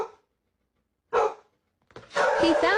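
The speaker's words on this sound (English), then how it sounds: "My son didn't understand why he was barking" A dog barks loudly up close, with two sharp single barks separated by silence, followed by a longer, louder burst of barking.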